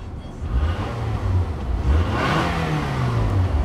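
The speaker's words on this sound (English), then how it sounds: "Revs up nice, idle smooth," A 2008 Nissan Altima 2.5 S engine revs up and winds back down, its pitch rising and falling in smooth sweeps over a steady, smooth idle rumble.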